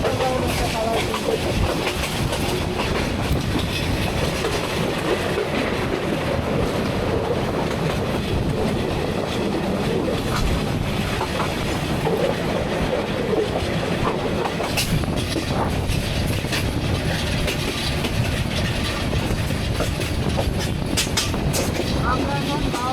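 Jamalpur Express night train running from Mymensingh to Dhaka, a steady loud rumble and rattle of carriages with clickety-clack wheel noise throughout, occasional faint voices inside the coach.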